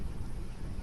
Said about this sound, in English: actually hear the wind with this camera